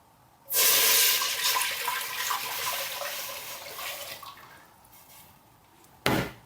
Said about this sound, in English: first thing we put in there, 2 litres of water